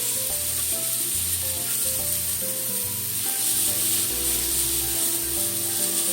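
Pork stir-frying over medium heat in a pan with shio koji gives a steady bright sizzle with low scraping and stirring knocks, close and continuous, with no voices.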